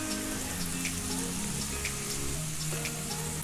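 Lardons sizzling in a frying pan, a steady close crackle of spitting fat with scattered pops, running alone without talk.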